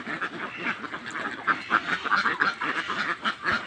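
Farm ducks quack in a lively, overlapping flock, with repeated calls close by and growing busier toward the end, and no talk over them.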